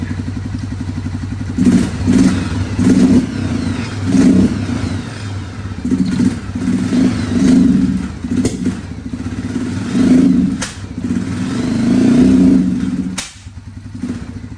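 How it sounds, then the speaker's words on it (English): A Suzuki Quad Runner 500 ATV engine runs roughly up close, its carburetor struggling so the idle surges and sags in uneven pulses with clattering mechanical noise, loud and steady with no talk. "Carburetor really fighting right now."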